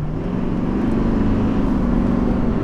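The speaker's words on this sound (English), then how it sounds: "It's a bit loud inside for being a modern diesel." Inside the cab of a 2020 Chevrolet Duramax diesel pickup while driving, a loud steady low engine drone and rumble, even and continuous, with no talking.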